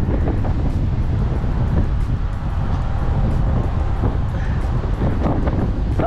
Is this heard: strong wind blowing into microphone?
yes